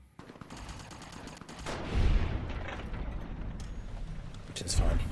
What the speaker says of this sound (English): there's NCR NPCs over here, so they're all now shooting at each other